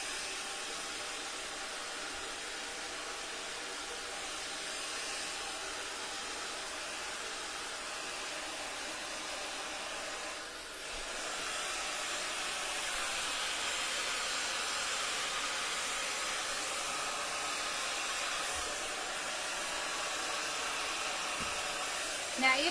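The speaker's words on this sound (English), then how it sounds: "But we'll just get Kiara's hair dry now" A hair dryer blows steadily on a child's curly hair, a constant breathy hiss that briefly dips near the middle before continuing at an even, moderate level.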